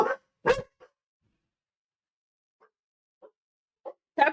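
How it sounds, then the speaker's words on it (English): Small dog giving a few sharp, close barks at the start and end, with softer yips and whimpers scattered across the quiet stretch between them, set indoors. "That was Jock having a wee bark there."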